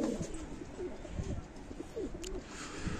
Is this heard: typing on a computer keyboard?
no